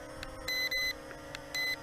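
Two short electronic beeps from a ZLL SG907MAX drone transmitter, signaling the speed setting, sound over a low background hum, with a few faint clicks in between.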